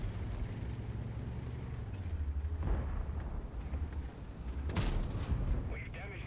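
Two heavy tank cannon shots boom out in a World of Tanks battle on the Malinovka map with a Centurion Action X, the first about midway and the second louder near the end, over a constant engine rumble.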